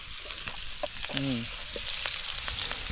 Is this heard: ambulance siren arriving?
no